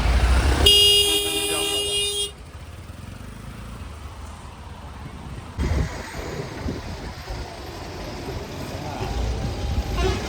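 Cars sit jammed on a road near the Tukaram Maharaj palkhi pilgrimage procession. One long, loud horn blast opens the scene, then a steady rumble of idling traffic continues while people talk nearby.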